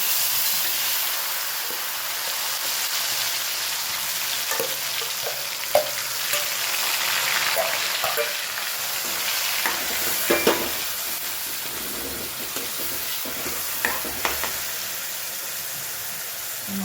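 Cumin and tomatoes sizzle steadily in hot oil in a pan, with occasional louder scrapes and knocks as they are stirred, close and continuous with no talking.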